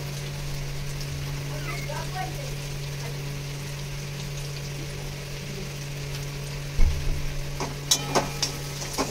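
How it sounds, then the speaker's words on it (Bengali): Onions fry with chicken in a kadai for chicken curry, a soft, steady sizzle under a constant low hum, with a few sharp utensil clinks near the end. "পেঁয়াজও দিয়ে এবার পেঁয়াজটাকে ভাজবো"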